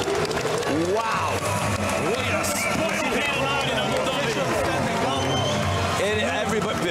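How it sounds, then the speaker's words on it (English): Fans at a women's WBC Silver boxing bout between Delfine Persoon and Elhem Mekhaled standing and clapping, a dense, continuous crowd roar with applause under a ringside commentator talking throughout. "the fans are on their feet clapping"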